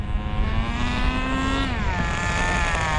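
A Kyosho FW-06 nitro RC car engine drones loudly and close, its high buzzing pitch sliding down and wavering as the car slows into the pit, with no talking.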